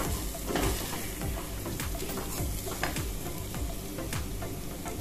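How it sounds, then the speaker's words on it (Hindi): Coriander powder and masala being stirred in a sizzling pan for a chickpea curry, with a steady frying hiss and repeated scraping strokes of a spoon across the pan, close and continuous without talk. "इस तरह से हम चलाते रहेंगे 2 मिनट तक, ताकि हमारा धनिया पाउडर भी पक जाए।"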